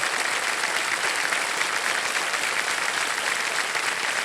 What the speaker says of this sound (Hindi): तालियां बज जाए एक बार फिर।